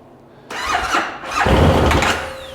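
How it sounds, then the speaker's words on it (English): A 2013 Bennche UTV engine cranking with a squealing starter, catching and firing briefly into a loud rough roar before fading, heard close with no talking. "Let's go ahead and crank it, and let's just see what happens."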